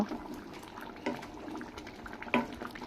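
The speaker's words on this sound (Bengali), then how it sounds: "খুব সুন্দর করে ফুটে উঠেছে তরকারিটা" A pot of curry bubbling at a steady simmer after its lid is lifted, soft gurgling with a couple of louder pops, close and moderately quiet.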